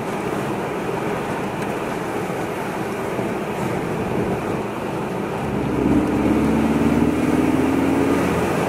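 A Ford Focus ST's engine runs steadily on a forest road, then from about halfway a rising turbo whine joins in as it revs up and accelerates, loud and continuous with no speech.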